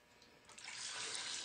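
Beef broth pours into an Instant Pot, a brief splashing rush of liquid that swells in and holds steady for about a second, alone and fairly faint.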